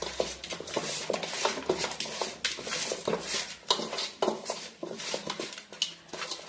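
A spoon scrapes and knocks against a pot while chicken curry is being stirred, giving a quiet, irregular run of clinks and scrapes with no talk.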